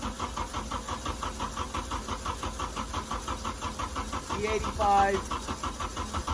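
A turbocharged Honda Civic running on E85 idles with a steady rhythmic pulsing engine note, rising briefly near the end, while a person talks over it.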